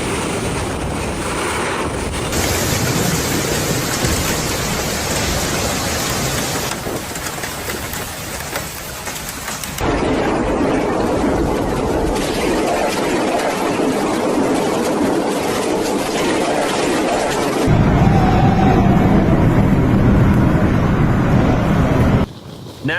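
Heavy rain and wind lash down through a severe storm in Hainan, a loud continuous roar with broadband rushing and shifting gusts. No thunder claps stand out, and the rain stays close and intense throughout.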